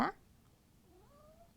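A single short cat meow, faint and thin, follows a brief louder burst at the start, with a quiet room background.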